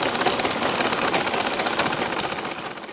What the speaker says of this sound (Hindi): अब हम क्या करेंगे, दोनों तरफ से इसमें सिलाई लगा लेंगे। तो चलिए सिलाई लगा।